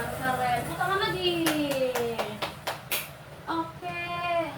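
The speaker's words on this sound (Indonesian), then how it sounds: "Tepuk tangan lagi" Students in a grade 8 Indonesian-language classroom clap their hands in a short run of sharp, uneven claps, mixed with a teacher's and children's voices.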